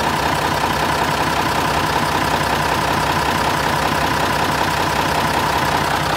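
A Mercedes 814 truck engine idles on a test start after gearbox repair work, a steady, even mechanical drone heard close by, continuous and unbroken, with no talking.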